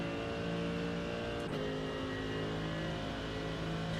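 A BMW M4 engine roars in a racing video game, a steady high-revving drone with a brief shift dip midway, loud and continuous without talk.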